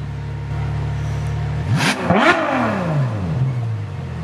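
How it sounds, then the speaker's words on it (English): Ferrari sports car engine, a 488 or 812 Superfast, idling low before two sharp revs that climb and drop, then a long falling whine as the engine settles back, loud and close with no talking. "Yo, that 488 sounds amazing. Yo, can you rev it? Can you rev it?"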